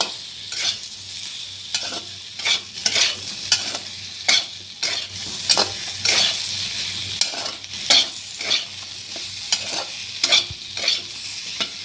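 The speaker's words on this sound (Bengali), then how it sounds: "আমি পটলটা দিয়ে একটু নাড়াচাড়া করে নিলাম।" Pointed gourd is tossed with spiced potatoes in a pan, a spatula scraping and clanking in steady repeated strokes over a continuous sizzle, loud and close throughout.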